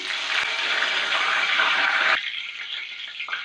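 Curry leaves, garlic and green chillies sizzle and crackle loudly in hot oil for green mango pickle, a dense steady hiss that drops sharply to a softer fizz partway through.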